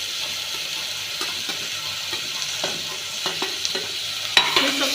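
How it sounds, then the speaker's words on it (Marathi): Chopped tomato and a large potato sautéing in a pan, a steady hiss of frying under occasional light scrapes and taps of a stirring spoon, with no talk. "हे सगळं आपण 2 मिनिटं याच्यामध्ये परतून घेऊ"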